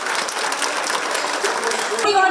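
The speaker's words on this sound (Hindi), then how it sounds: "जोरदार तालियों के साथ स्वागत कीजिए माननीय मुख्यमंत्री" A crowd welcoming Chief Minister Hemant Soren at an event in Hindpiri applauds in a steady, dense round of clapping for about two seconds before a voice cuts in at the end.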